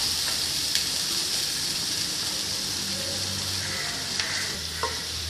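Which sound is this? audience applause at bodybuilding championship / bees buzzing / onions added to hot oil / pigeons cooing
onions added to hot oil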